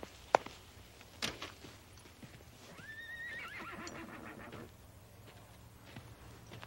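A young, untrained horse lets out a rising, wavering whinny in the middle of the clip, preceded by a couple of sharp knocks and quiet hoof sounds.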